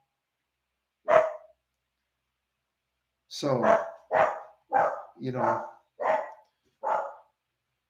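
A dog barks several times, one bark followed after a pause by a quick run of six or so sharp barks, fairly close, indoors.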